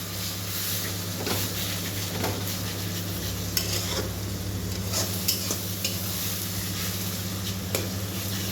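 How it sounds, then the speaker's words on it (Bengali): Spices hit hot oil in a pan and sizzle steadily, while a spoon scrapes and stirs in repeated strokes, close and continuous. "এবারে মশলাগুলোকে দেবো"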